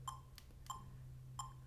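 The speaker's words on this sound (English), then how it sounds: "I have a metronome right here in front of me, and let's just turn it on there." A metronome ticks at 98 beats per minute, three faint, evenly spaced clicks beneath a steady low hum, with no one speaking.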